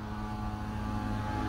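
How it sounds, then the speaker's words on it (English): A motorized engine drones steadily nearby, a continuous low rumble with a slight rise in intensity, like a motorbike going past. "motorbike going past"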